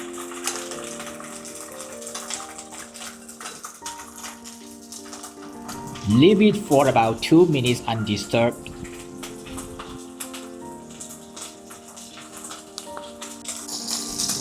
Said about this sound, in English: Now place the chicken carefully into the hot oil and let it sizzle.